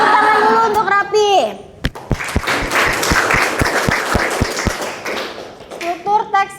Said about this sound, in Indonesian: Ya tepuk tangan dulu untuk Rapi